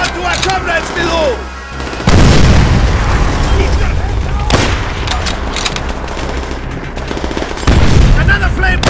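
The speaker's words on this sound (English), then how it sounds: "Exploding the fuel tank will incinerate anyone standing" Explosions and bursts of gunfire from Call of Duty: World at War, as a fuel tank blows up amid a firefight: heavy booms at intervals over a steady clatter of shots, with game voices speaking throughout.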